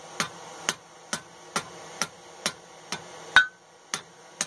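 Hammer striking steel clamped in a vise while bending a forged fishtail hook, about ten sharp ringing blows at an even, unhurried pace, close and loud with no talking.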